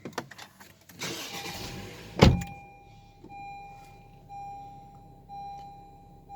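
A Honda Civic 1.5 Turbo starting up: a short cranking whir and a sharp catch as the engine fires, then a quiet, steady idle hum with a faint tone.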